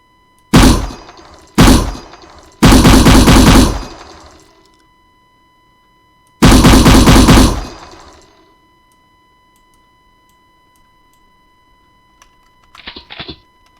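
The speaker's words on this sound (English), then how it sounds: "we'll display the machine gun script, we'll select the machine gun" Machine gun firing in a survival horror video game: several loud, sharp bursts of rapid shots, two short ones then longer sustained volleys, followed by silence and a faint brief mechanical rattle at the end.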